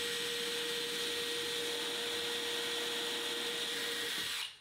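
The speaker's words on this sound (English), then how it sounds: "I'll have my other drill out here. I'll use this to drill the 1/2 inch" A power drill whines steadily at high speed for several seconds while drilling a half-inch hole, loud and close, then winds down and stops near the end.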